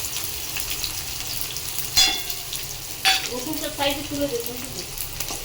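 Garlic and cumin sizzle in a frying pan for a chicken curry, a steady close hiss overlaid by a few sharp scraping stirs and clatters, with brief faint vocal sounds.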